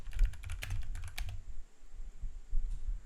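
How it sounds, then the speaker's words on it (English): Fast, close typing on a computer keyboard, a quick burst of crisp clicks that stops partway, leaving a few faint taps in a quiet room. "type in Google Docs."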